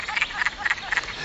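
Wood frogs calling in a dense, rhythmic chorus of short clucking croaks, repeating steadily and fairly close.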